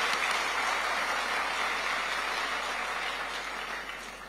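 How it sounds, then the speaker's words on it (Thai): A party convention audience applauds for the prime minister in a large hall, a broad continuous wash of clapping with a steady electrical hum beneath, easing gradually near the end. "ขอเสียงปรบมือ"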